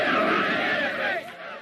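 An angry crowd shouting at a young Black schoolgirl, Ruby Bridges, on a city street during school desegregation, a dense roar of raised voices throughout that drops away near the end.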